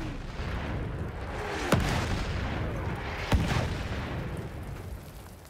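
Enemy artillery barrage in the Battlefield 1 Raid mode, two sharp distant blasts landing a couple of seconds apart over a constant rumbling battlefield din.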